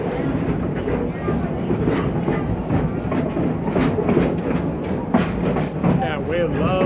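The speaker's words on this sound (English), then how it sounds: "Yeah, we love riding the train." A park train ride at Busch Gardens, a steady rumble with rhythmic clickety-clack of wheels on rail heard from onboard, with people talking over it.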